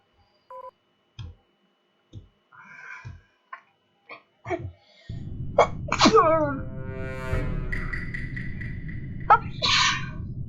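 Brief clicks and beeps like phone keys, then a sudden sneeze over background hum, followed by electronic tones and a short second burst.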